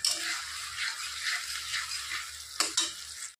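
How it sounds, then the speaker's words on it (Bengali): Tomato paste sizzles and fries steadily in hot oil for a fish curry, a continuous close crackle with a couple of brief stirring scrapes near the end and no voices. "তো টমেটোটাকে ভালো করে ভাজতে হবে যতক্ষণ না তেলের মধ্যে দানা দানা ছাড়ছে"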